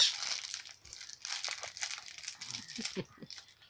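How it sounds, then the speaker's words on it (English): A fortune cookie is crumpled and crushed in a small hand, producing close, dry crinkling and crunching bursts in irregular clusters, while voices talk in the background. "She's sitting there crumpling it in her hand"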